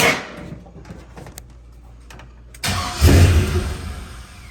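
A 1988 Chevrolet C30 truck with a swapped LS engine cranks after a quiet stretch of faint clicks, then catches and fires with a sudden loud burst, settling into a rough rumble.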